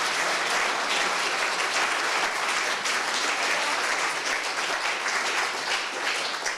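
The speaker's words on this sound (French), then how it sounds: "On peut les applaudir à nouveau." A crowd at a media awards ceremony applauds the winners in a loud, steady, uninterrupted burst of dense clapping lasting several seconds.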